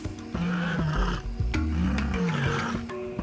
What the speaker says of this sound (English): A big cat's ability to roar.